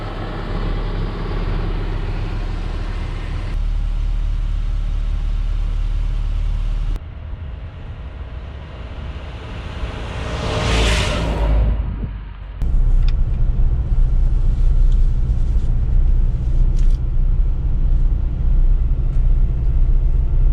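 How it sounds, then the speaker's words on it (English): A lowered Nissan D21 Hardbody pickup truck on its first road test drive, heard from inside the cab: a loud, steady engine drone and road rumble that dips briefly and then swells again, with no talking. "first test drive in the lowered hardbody"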